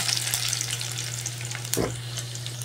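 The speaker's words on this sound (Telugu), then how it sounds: "ఎల్లిగడ్డ కూడా మంచిగా కాలుతుంది." Garlic frying in oil in a pan, a soft steady sizzle with faint crackles and a low hum underneath, one brief stir or scrape midway.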